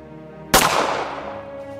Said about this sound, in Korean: 때는 1909년 10월 26일 만주 하얼빈역에서 총성이 울려